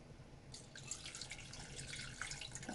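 Water poured from a container over prunes for a tajine, a soft, steady trickling splash that starts after a brief pause and carries on, faint and close.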